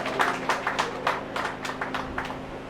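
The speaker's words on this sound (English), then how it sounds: "Women, clap for yourselves." Women in an audience at a motivational talk clap together, a steady patter of hand claps at moderate distance with irregular bursts rising and falling over a low background hum.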